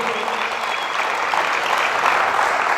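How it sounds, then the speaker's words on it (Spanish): A church congregation applauds at a Sunday morning service, a dense, steady wash of many hands clapping close and loud throughout with no break. "Así que denle un fuerte aplauso a Cristo,"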